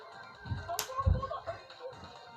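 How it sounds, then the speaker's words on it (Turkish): A boy slaps himself during an online game: two sharp smacks a half-second apart, then softer thuds, heard through a voice-chat line while other people talk. "Lan çocuk kendini tokatlıyor."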